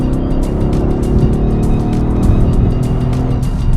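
A Mercedes AMG GT R accelerates hard in comfort mode, its engine note a loud, steady roar rising under full throttle with no speech.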